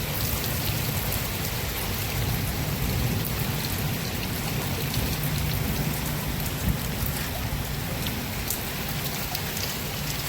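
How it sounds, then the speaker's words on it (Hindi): Heavy rain pours down steadily, a dense continuous hiss of drops hitting surfaces, close and loud with no break. "हे राम रे, कितनी बारिश कर रखी।"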